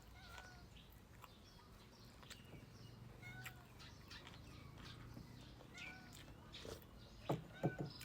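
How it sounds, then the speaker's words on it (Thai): A cat meows faintly for food several times against a low background hiss, with a few quiet bird-like chirps mixed in. "อยากกินข้าวเพิ่นสิมาแง่วแง่ว"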